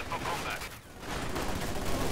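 SVT rifles and PPSh submachine guns fire in a World War II video game battle against Volkssturm troops, a dense, continuous crackle of overlapping gunfire with no break.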